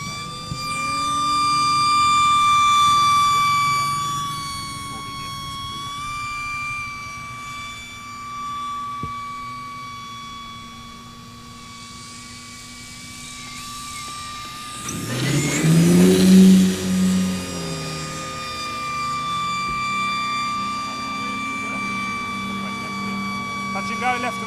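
A Hangar 9 OV-10 Bronco 30cc model plane does a touch and go at a flying event, its steady engine drone passing at moderate distance, with a burst of rushing noise near the middle as it touches down and climbs away.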